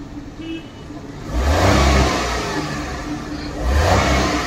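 A Maruti Suzuki WagonR with a company-fitted CNG conversion idles and then revs up, its engine note swelling into a loud, steady roar, dipping briefly and rising again, close by with no talk.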